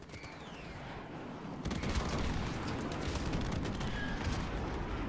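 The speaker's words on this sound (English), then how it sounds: "There's just shooting coming from everywhere." Gunfire in Call of Duty Modern Warfare, scattered distant shots and bursts that thicken into a dense crackling barrage, coming from several directions at once.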